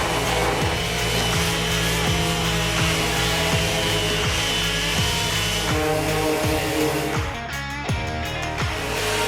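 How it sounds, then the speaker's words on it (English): A wooden lid for a lighter collection box is sanded with a power tool, its motor giving a steady droning hum broken by a regular series of rasping strokes, loud and close. "so we finished sanding the lid"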